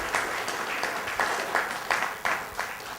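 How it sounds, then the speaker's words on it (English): Group applause at a summit, a steady patter of many hands clapping close by with brief louder accents, continuing evenly for several seconds. "let's give them a nice round of applause."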